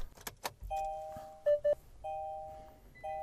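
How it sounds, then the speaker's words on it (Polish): Kia Sportage ignition cycled off and back on with the key, giving steady electronic chime tones with two brief louder beeps in the middle, after some faint clicks at the start; no talking. "Wyłączę teraz kluczykiem zasilanie, czyli zapłon. Ponownie włączę."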